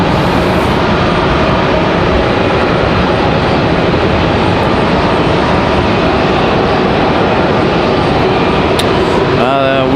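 A JetBlue Airbus A320 from San Juan, Puerto Rico, taxis to the gate at Raleigh-Durham International Airport, its engines a loud, constant hum and roar that persists throughout.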